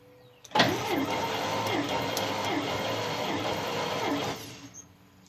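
A hot 1955 Cadillac Coupe Deville engine cranks over on the starter for about four seconds during a compression test, a loud, rhythmic whirring chug with regular compression pulses, starting and stopping abruptly, no talk.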